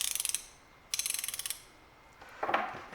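A Matco ratcheting wrench is worked back and forth, giving two quick runs of crisp, evenly spaced clicks up close, then a brief rough scrape.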